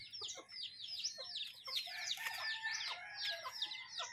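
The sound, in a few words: chickens clucking on a chicken farm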